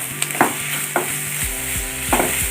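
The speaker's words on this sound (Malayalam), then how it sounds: "നമ്മൾ നന്നായി ഒന്ന് ഇളക്കി കൊടുക്കുക" Close, loud sizzling of spice masala frying in a pan for chicken tikka, broken by scraping strokes of a spoon stirring it.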